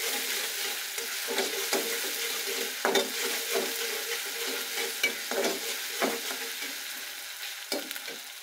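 A spoon stirs turmeric, chili powder, salt and spices for a tilapia and radish curry in a pan, giving soft scraping strokes over a faint steady sizzle.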